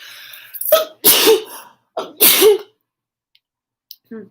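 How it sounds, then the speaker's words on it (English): Two sharp sneezes in quick succession, each preceded by a short intake of breath, loud and close, then silence. "I'm gonna sneeze"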